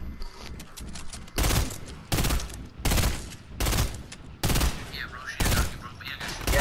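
Assault rifle fire in a video game comes in about six loud, long bursts of rapid automatic shots, separated by short gaps with quieter background sound.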